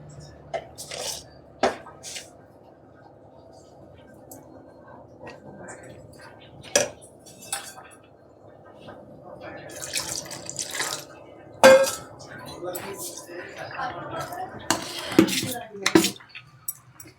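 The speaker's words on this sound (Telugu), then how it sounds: "ఇందులో కొంచెం ఉప్పు, వాటర్ వేసి కలుపుదాము." Wet clinks and scrapes of soaked jowar dosa batter being stirred with salt and water in a bowl, with intermittent clatter and splashing of water, fairly close with quieter pauses between.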